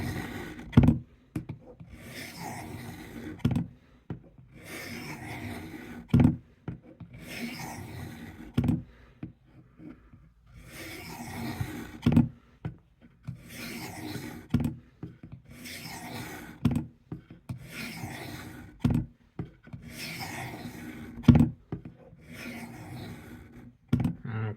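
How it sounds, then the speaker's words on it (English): Gerber knife blade drawn across the fine grit of a Work Sharp guided sharpening system in about ten separate rasping strokes, evenly spaced and close, with quiet gaps between them. "We'll do 10 strokes per side here on the fine grit."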